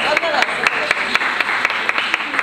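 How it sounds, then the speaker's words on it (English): An audience of parents at a summer program event applauding themselves, a steady rhythmic clapping close by with talk running beneath it. "We have to applaud ourselves because, you know, as parents, it's hard work raising children."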